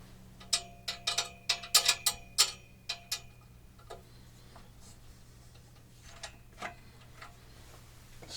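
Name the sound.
tightening clamps on a Gibraltar gong rack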